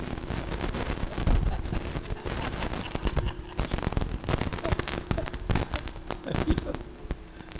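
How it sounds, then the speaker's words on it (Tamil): Firecrackers bursting at a celebration, a dense, continuous crackle of sharp pops and bangs with no pauses, loud and close, with some voices mixed into the din. "இது எப்படி பட்டாசு வெடிக்கிறது?"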